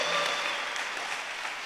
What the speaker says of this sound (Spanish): ¿Cuántos le dan aplausos a Dios por eso?